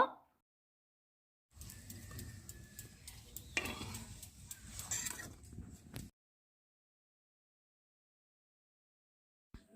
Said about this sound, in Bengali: এরকম ভাবে আমি সবগুলো কড়াইশুঁটির কচুরি ভেজে নেব।